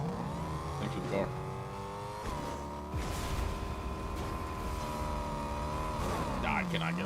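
A car engine in a shooter video game drones steadily and loudly throughout, rising and shifting pitch as it revs, with a voice talking over it.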